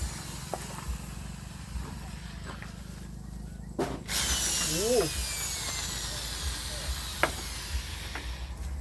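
A power drill bores holes for running electrical wiring behind a house, a loud whining burst in the middle that stops and starts, with hiss and background noise throughout and no speech over it.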